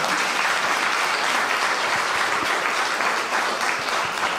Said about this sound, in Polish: Teraz proszę o te gromkie brawa.